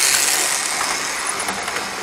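Model railway tender locomotive running on a layout track, a rather noisy, continuous whirring motor with a light rattling, clicking texture from wheels and gears, close and steady.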